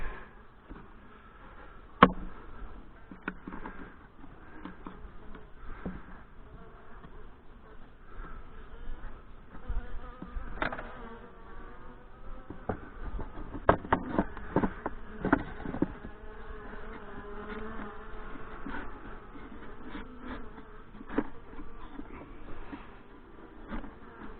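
Honey bees swarm around an opened nuc hive, their dense, continuous buzzing hovering close with individual bees zipping past, punctuated by a few soft knocks of hive equipment; no one speaks.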